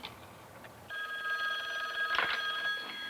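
A telephone rings on a consumer product safety hotline, a steady electronic ringing tone that starts after a short pause and carries on, moderately loud and close, with no talking.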